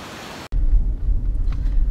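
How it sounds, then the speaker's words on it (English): Ocean waves at Carolina Beach near Southport, North Carolina, a steady low surf rumble that starts abruptly and carries on loud and constant, with no voices. "We're out here at the beach."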